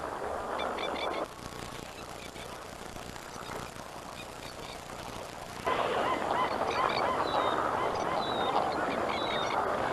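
Australian pelicans feeding on trapped catfish at a quiet, remote backwater in New Guinea give a steady chorus of low honking calls, with a louder, denser flock joining in partway through.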